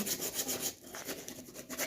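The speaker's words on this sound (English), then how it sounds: "I'm using 100 grit sandpaper and just mainly sanding the corners" Wood sanded by hand with 100 grit sandpaper around the corners of a piece, a soft rasping rub in short back-and-forth strokes, quiet and close.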